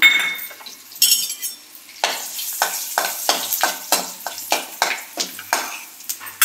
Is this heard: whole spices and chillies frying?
yes